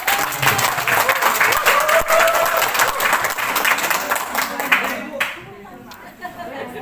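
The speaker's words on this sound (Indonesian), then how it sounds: "Sekali lagi tepuk tangan buat Bu Elok." Meeting audience at a Muhammadiyah branch working session breaks into sustained applause, dense and loud for several seconds before thinning out near the end, with some crowd chatter mixed in.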